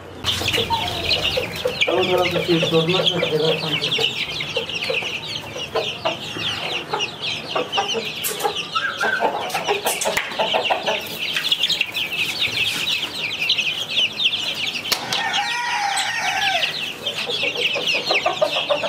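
Aseel chickens and month-old chicks on a poultry farm, with continuous overlapping clucks and peeps and occasional wing flaps, busy and close throughout, and a voice speaking faintly in the background.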